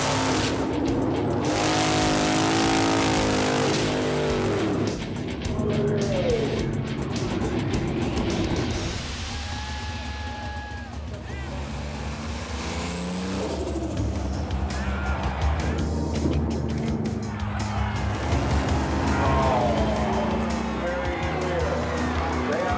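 Race cars launch down a drag strip at a street-legal drag racing event, engines roaring loudly and revving under steady talk from people nearby, with crowd noise throughout.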